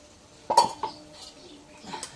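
A metal spoon scrapes and clinks against a cooking pot while cooked broiler chicken is stirred, giving a few short knocks and clatters separated by brief quiet.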